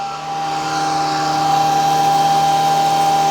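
Shark Vertex Pro vacuum cleaner running in carpet mode at medium suction, a loud, steady motor whine with a sustained tonal hum that holds level throughout, no voices over it.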